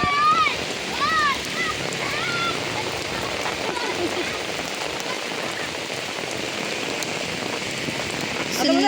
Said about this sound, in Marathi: आता बघा किती जोरात झालाय पाऊस आलाय जोरात